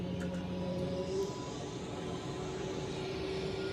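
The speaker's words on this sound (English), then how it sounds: "we are waiting for this Etihad A321 LR to depart" An Etihad A321LR jet at Zurich Airport on a cold afternoon gives a steady, distant engine roar with faint tonal whine, holding evenly throughout with no talk.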